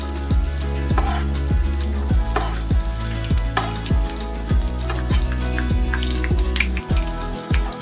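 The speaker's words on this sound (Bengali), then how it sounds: "ভাজবার সময় এরকম তেলগুলি যদি ওপর দিয়ে দেওয়া যায়, তাহলে ওপরটাও তাড়াতাড়ি ভাজা হয়ে যায়" Chicken paneer cheese rolls fry in hot oil with a steady close sizzle, while a repeating series of low thumps sounds beneath it throughout.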